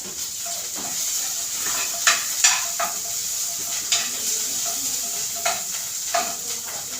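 Ground masala paste roasts in oil in a pan for a village-style egg curry, with a steady close sizzle and repeated spoon scrapes and taps on the pan.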